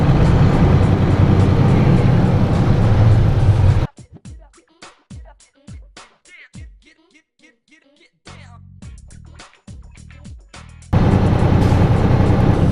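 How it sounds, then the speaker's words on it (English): A truck's diesel engine revs up to charge its air brake system, a loud steady roar that drops to idle with sharp intermittent bursts and clicks, then roars high again near the end. "Now I'm going to fully charge the air system. Rev at 12 to 1400 RPM."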